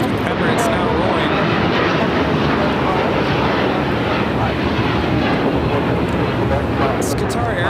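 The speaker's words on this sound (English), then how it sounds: "It's Qatar Airways 740 taking off to Doha on the A350-1000" Qatar Airways Airbus A350-1000 jet taking off for Doha, a loud, steady broadband engine roar filling the whole clip with a wind-like rumble, and talk occurring over it.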